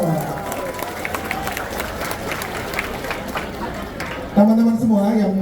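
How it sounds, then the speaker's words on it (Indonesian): Crowd of residents clapping at an outdoor rally in Pontianak, a broad wash of applause and shouting, followed near the end by a voice speaking loudly over it. "Tepuk tangan dulu dong."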